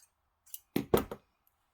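Scissors trimming long tassel threads for a junk journal spine: three quick close snips, crisp and alone.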